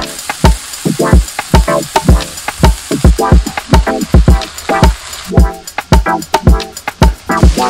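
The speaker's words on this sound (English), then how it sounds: "If you're cooking and there's no noise, you're not doing it right." Peppers and green onions frying in a pan for vegan snacks, with loud repeated crackling bursts and scraping stirs in an irregular rhythm, close and alone without talk.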